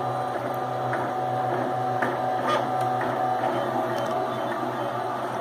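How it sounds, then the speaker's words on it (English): 3D printer running at home, a low steady motor hum with faint stepper whines and small ticks, quiet and continuous with no talk. "Retired and printing stuff out."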